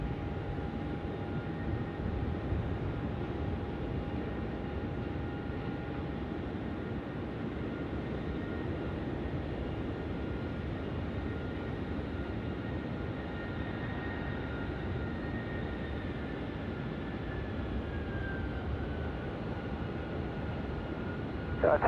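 At night at Sydney Airport, an airplane comes in to land on runway 16 right, and its engine roar rumbles steadily and broadly from a distance, sustained with little change throughout.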